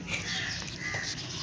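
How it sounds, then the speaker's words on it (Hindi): Crows and other birds call in the morning outdoors, faint caws and chirps scattered over a steady background hiss. "सारी चिड़ियाँ आ गई हैं मुझे गुड मॉर्निंग के लिए।"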